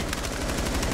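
Rapid gunfire from a Rainbow Six Siege match, a fast run of loud, close shots in a tight, regular rhythm for about a second.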